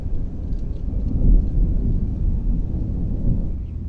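Low rolling thunder from an approaching storm in a horror film, a continuous deep rumble that swells and fades over several seconds, with rain-like hiss and no speech.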